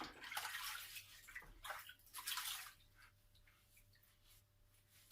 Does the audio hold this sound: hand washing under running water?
yes